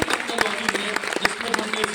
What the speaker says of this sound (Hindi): उनके लिए आप एक बार जोरदार तालियां बजाइए